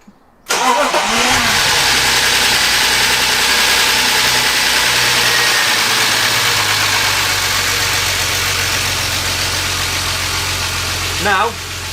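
A BMW E36 engine fires up just after the start and settles into a loud, steady idle following an oil flush, droning evenly for about eleven seconds before a brief swell near the end.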